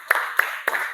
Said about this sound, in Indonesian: tepuk tangan dulu dong biar semangat jawabnya